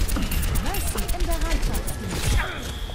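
An Overwatch turret fires at the player in rapid, rattling bursts, while voices talk over the gunfire.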